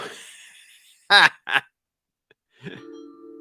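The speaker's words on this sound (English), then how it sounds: "You're hearing those little chimes. Those are people interacting." Short notification chimes from people posting in a watch chat channel sound as a few sparse, brief tones separated by quiet gaps, with a soft steady tone at the end.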